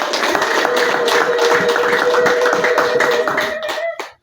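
A church congregation claps hands together in a dense, steady burst of applause that runs nearly four seconds. The clapping is loud and continuous, then stops sharply at the end.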